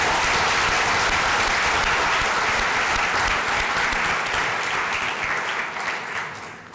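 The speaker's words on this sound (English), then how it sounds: "Let's give them all a big applause for that." Loud, dense applause from a large Social Business Day audience, a full continuous roar of clapping that holds strong and only begins to thin slightly at the end.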